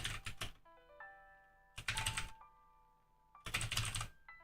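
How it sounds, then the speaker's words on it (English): Rapid typing clatters on a computer keyboard in three quick, dense bursts separated by pauses, where faint electronic tones linger; the sound is quiet overall. "I'm typing insane right now"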